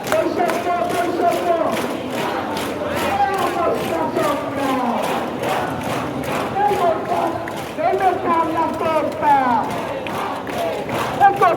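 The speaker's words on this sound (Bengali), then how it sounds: "বিভিন্ন স্লোগান দিচ্ছেন" Protesters in a crowd at a quota-reform demonstration chant slogans loudly and continuously, many voices rising and falling together in a steady rhythmic surge.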